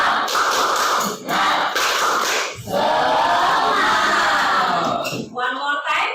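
A group of people performing a tepuk semangat clapping chant, loud bursts of rhythmic clapping and shouting voices that pause briefly between repetitions, close and energetic.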